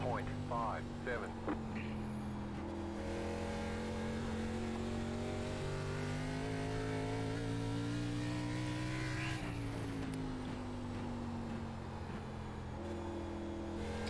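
Race car engines in an ARCA sim racing event at Music City 100 drone steadily at high revs, their pitch rising and falling slightly as the cars push through a lap, a continuous loud whine throughout.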